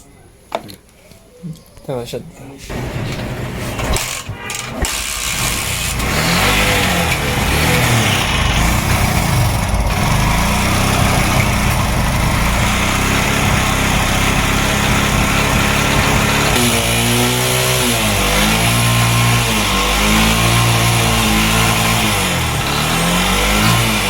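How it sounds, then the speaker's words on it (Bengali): LML Freedom 100cc motorcycle, with rewired electrics, being started, then running close by: a steady, buzzing small engine with a few revs and pitch changes, and someone talking over it. "তো এরপর আমরা আবার পুনরায় সকেটটি লাগিয়ে স্টার্ট করব"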